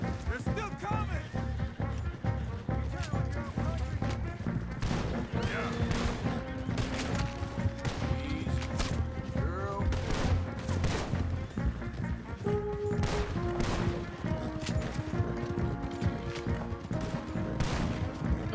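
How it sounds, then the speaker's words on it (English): Shotgun blasts fired from horseback in Red Dead Redemption 2 ring out again and again amid a busy chase, sharp bangs layered with music and game noise while a voice talks over the action. "I can't believe he's shooting with a shotgun. On a horse."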